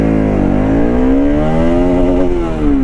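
A Pulsar RS 200 motorcycle revs hard and accelerates, its engine note climbing steadily in pitch, loud and close, with no talk over it.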